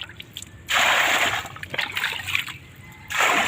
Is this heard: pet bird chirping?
no